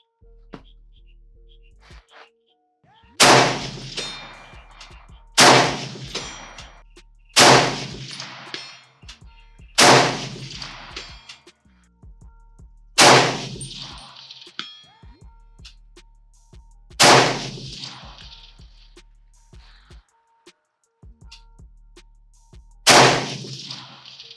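Springfield M1A rifle in .308 fires seven loud, sharp shots at spaced intervals, each blast ringing out with a long decaying echo across an open range, no talking between them.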